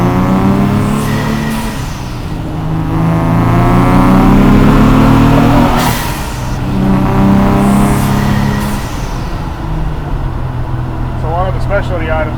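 A new RZ34 Nissan Z with a SOHO air-to-air turbo setup and open exhaust revs hard nearby, its engine note swelling and falling in repeated pulls, loud and throaty with turbo whoosh between blips.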